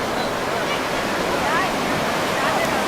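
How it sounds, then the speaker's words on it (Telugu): Rough, furious sea waves at Hamsaladeevi beach, a continuous loud roar of surf and churning water close by with no breaks. "సముద్రం చాలా ఫెరేషియస్గా ఇక్కడ ఉంది"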